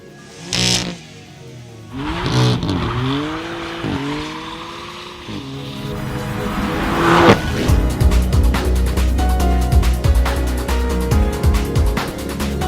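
A turbocharged 3-litre BMW F80 M3 rear-wheel-drive saloon revs hard with rising engine notes, then its tyres squeal and smoke in a loud, close, sustained burst of rumble and screech.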